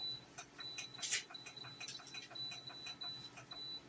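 A kitchen timer ticks steadily and faintly while a beef hash cooks, its regular clicks paced through a quiet kitchen background with a thin whine running beneath.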